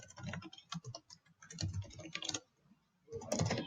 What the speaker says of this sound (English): you hold down the Shift key and click Enter.